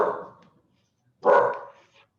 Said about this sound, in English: my dog Momo is hearing something out there